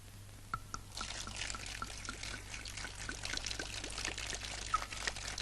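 Water pours and trickles steadily for several seconds with small splashy drips, fairly quiet over a low background hum, with no talking.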